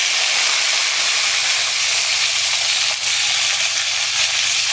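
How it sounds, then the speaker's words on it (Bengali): Flat beans frying in a hot pan with black cumin, a loud, steady, close sizzle and hiss that continues without a break, with no talking. "সিমগুলো দিয়ে একটু ভেজে নেবো।"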